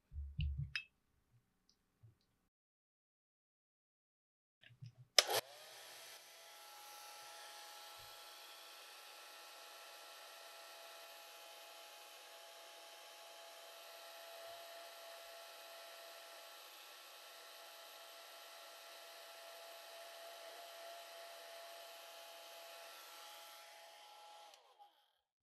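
A hair dryer blows steadily over a watercolor painting of ducklings, a continuous whirring airflow that runs nearly twenty seconds after a sharp click switches it on, preceded by a few faint handling taps.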